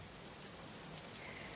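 Rain with large drops falling: a faint, dense and steady patter that stays even and unbroken throughout, heard alone.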